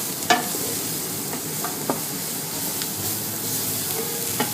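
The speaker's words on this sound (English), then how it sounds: "We're going to cook this together for about 10 minutes until the onions kind of just get tender, as well as the celery." Onions and celery sizzle in a pot in a steady, close, fairly loud hiss, broken by a few light clicks of stirring, with no one talking.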